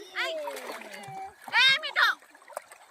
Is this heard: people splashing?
yes